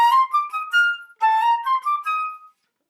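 A flute plays two short phrases alone, each closing on sustained, lingering notes before falling silent.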